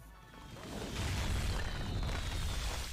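A deep rumbling blast tears through concrete walls in Max Payne 3, swelling from a low roar into a sustained crashing boom with debris noise, moderately loud and unaccompanied by talk.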